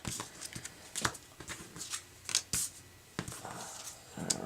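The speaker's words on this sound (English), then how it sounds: "looks like I have reached the end of my deck, so I will shuffle this and be right back" Cards from a board game deck shuffled by hand at a table, a series of quick papery riffles and slaps in irregular bursts, close and fairly quiet with no talking.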